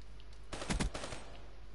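Gunfire in Black Ops 3, a fast burst of several close, loud shots in quick succession from a quick draw stock weapon, set against steady game ambience with no talking.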